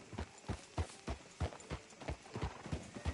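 Horse hooves clip-clop at a steady walking pace through a town street in Red Dead Redemption 2, each hoof fall distinct and fairly close, with no talking over them.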